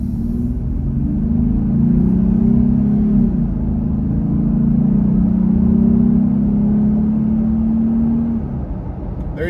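Jeep Gladiator fitted with a cold air intake accelerates along a road, a steady engine drone whose pitch climbs through the gears, with a shift and then a long pull before it eases off near the end; close, loud, no talking.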